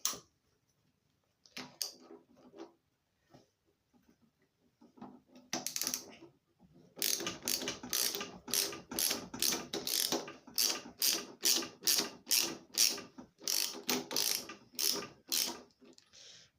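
A ratchet wrench clicks in rapid bursts while loosening the top nut on the front end of a BSA Bantam D7 motorcycle, with a few sparse clicks at first, then steady repeated strokes, close and loud.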